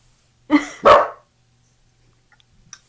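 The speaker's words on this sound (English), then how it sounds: "My dog is a loud boy." A dog gives two loud, close barks in quick succession indoors, followed by silence and a few faint small sounds.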